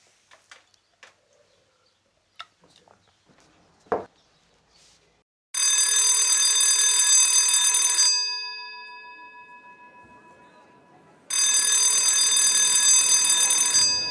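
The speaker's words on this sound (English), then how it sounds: "The bells are ringing inside the Salisbury Playhouse" After some scattered clicks and a knock, an electric bell rings loudly inside the Salisbury Playhouse theatre for a couple of seconds, fades, then rings again near the end.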